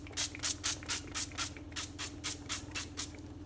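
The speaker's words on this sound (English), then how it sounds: "now we'll just spray a little bit" Frylight cooking spray is pumped onto chicken in a kitchen, a regular series of about a dozen short, close hissing bursts in steady rhythm.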